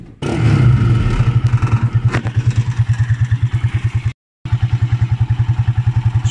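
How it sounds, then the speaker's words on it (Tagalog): A Rusi 175 motorcycle engine catches on the starter after its carbon brush is replaced, then settles into a loud, even, rapidly pulsing idle close by, broken by one short gap. "Papandarin muna natin yung ating motor."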